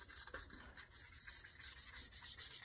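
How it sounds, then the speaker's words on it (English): Hand sanding scuffs the clear coat on a wheel during a trailer hub swap, a faint, steady rubbing that starts after a short pause and keeps on evenly, with no talk. "We're just scuffing up the clear coat and any rough spots you might see."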